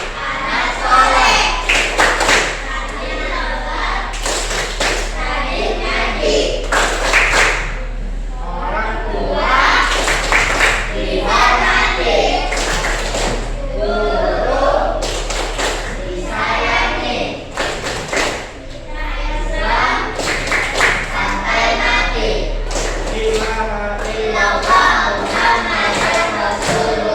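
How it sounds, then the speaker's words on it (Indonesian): A school class performs the 'tepuk anak soleh' clapping chant, bursts of sharp group claps and thumps alternating with children chanting loudly in unison, energetic and rhythmic, with a steady low hum beneath. "Tepuk anak soleh."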